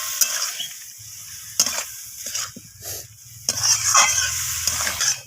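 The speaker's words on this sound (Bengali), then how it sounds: "এইভাবে নাড়াচাড়া করে এখানে আমি রান্না করে নেব কুচো চিংড়ির চচ্চড়িটা।" Small shrimp cooked with radish, kohlrabi and cauliflower stems for a chorchori are stirred in a sizzling pan, repeated scraping strokes of a spatula over a steady close frying hiss.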